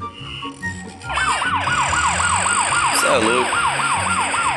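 A police car siren wails, sweeping up and down in a steady, repeating cycle, loud and close, with engine rumble beneath and a brief spoken remark near the start.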